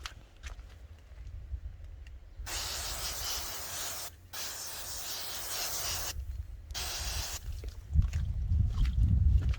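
Several long hissing bursts of aerosol bug repellent spray, each lasting a second or two with short pauses between, ending with low rumbling handling noise.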